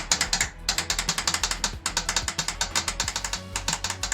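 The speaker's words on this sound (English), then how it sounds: "Hear that actuator, that's something." An actuator in a 1963 Datsun NL320 ratchets steadily in a rapid run of close, loud mechanical clicks, almost continuous for several seconds with a couple of brief pauses.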